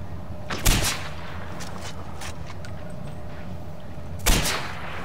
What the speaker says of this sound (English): there's the Z93 and the power of it being able to shoot through walls